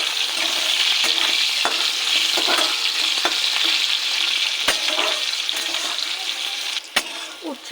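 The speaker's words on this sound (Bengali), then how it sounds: "এই তেলে উচ্ছেটাকে ভেজে নেব।" Bitter gourd frying in hot oil, giving a loud, continuous close-up sizzle with occasional sharp crackles and pops that continue to the end.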